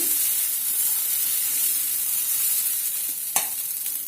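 Dosa batter sizzles on a greased hot pan, a steady close frying hiss with faint stirring scrapes and one brief sharp tap near the end.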